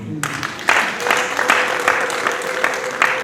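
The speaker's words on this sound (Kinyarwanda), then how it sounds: "Ngaho ni baguma amashyi n'impundu." Crowd applause at a Rwandan celebration, a dense steady clapping with bursts of high trilling ululation layered over it, loud and close, continuing for several seconds.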